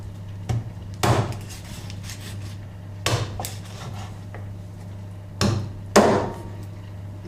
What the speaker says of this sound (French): on est sur la fin de la découpe du lapin